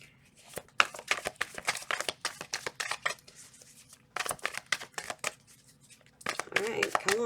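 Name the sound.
shuffling a deck of tarot cards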